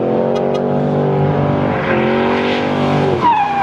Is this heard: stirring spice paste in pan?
no